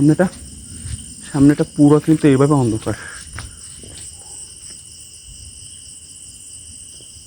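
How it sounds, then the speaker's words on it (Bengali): Crickets chirp in a steady, high, continuous drone along a dark village road lined with trees, close and clear; someone speaks briefly at the start, then the insect trill carries on alone. "এতক্ষণ আপনারা ঝিঝি পোকার ডাক শুনছিলেন দুর্দান্ত একদম বেশি"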